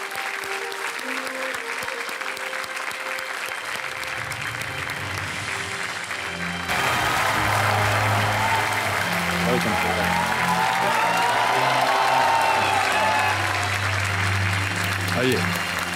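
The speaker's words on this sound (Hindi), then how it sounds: "जोरदार तालियों के साथ अभिनंदन किया जाए" Audience applause at an award ceremony welcoming a Padma Shri doctor and his wife, starting modestly then swelling into a loud, sustained ovation that fills the hall until the end.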